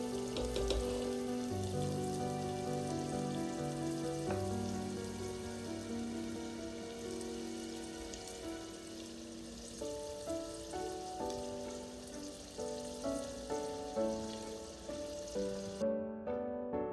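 Blended egusi frying in a pot for vegetable egusi soup, a continuous crackling sizzle that is fairly quiet and steady, with a few soft bubbling pops toward the end.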